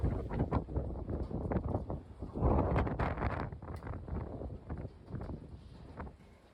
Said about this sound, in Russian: Ветер настолько сильный, что Мурзика уносит.